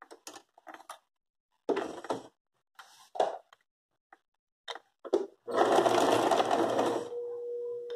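A sewing machine stitches fabric for a floral rug in several short, quick bursts separated by silences, then runs one longer continuous stretch while reverse stitching, close and clear with no voices.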